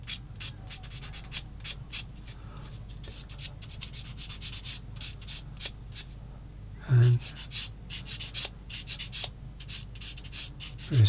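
A DAS WERK 1/35 Trippel SG 6/38 Schwimmwagen plastic model kit is hand-sanded, giving repeated soft scratchy rubbing strokes in short bursts, close up, with a brief louder knock partway through.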